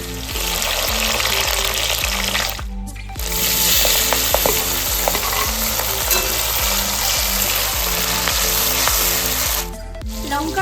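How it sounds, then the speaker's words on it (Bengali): Chopped ginger and green chili fry in hot oil with a steady, loud sizzle throughout, briefly cut twice by short gaps, with stirring scrapes faintly audible. "তেল গরম হয়ে গেছে, দিয়ে দিচ্ছি কুচিয়ে রাখা আদা। তার সাথেই দিয়ে দেবো কাঁচা লঙ্কা।"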